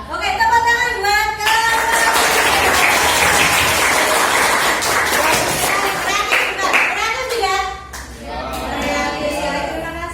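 A roomful of people claps steadily during a teachers' academic supervision session, a dense burst of applause that fades toward the end, with voices and calls mixed in throughout.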